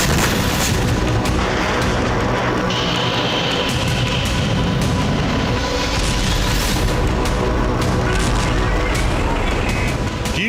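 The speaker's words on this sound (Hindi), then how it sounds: "कीव में रूस ने एक के बाद एक कई मिसाइलों से धमाके की।" Missile strikes on Kyiv, with heavy booming blasts and rumbling detonations piling up over a dense, loud, continuous roar, as a voice speaks over parts of it.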